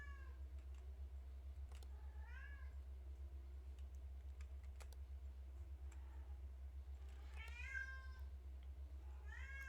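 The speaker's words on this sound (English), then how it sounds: "you can probably hear my cat screaming her head off in the background." A house cat named Luna yowls repeatedly in the background, several drawn-out, rising meows spread across the stretch over a constant low hum. The cries are faint and distant, and no one talks.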